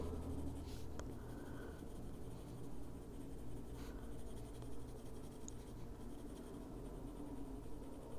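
Colored pencil scratching steadily across paper during adult coloring, a soft continuous scribbling texture with occasional brief strokes standing out, close and quiet with no voices.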